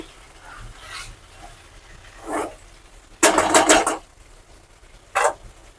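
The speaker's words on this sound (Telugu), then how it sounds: "కొబ్బరి మసాలా అల్లం వెల్లుల్లి పేస్ట్ అయితే వేసేసాను. ఇంకా కలిపేస్తున్నా ఇదంతా." A spoon stirs coconut masala and ginger garlic paste in hot oil in a pan while making chicken fry: a few scattered scraping strokes, then a louder second-long burst of rapid scraping and a final short stir, close, with no talk.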